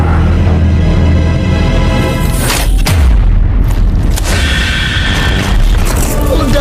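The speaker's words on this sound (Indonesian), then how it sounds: "Ledakan, kekacauan, kebakaran." A deep cinematic boom from a Mobile Legends story cutscene hits around the middle, set in a technology city amid chaos and fire, surrounded by dense rumbling effects and a swelling score.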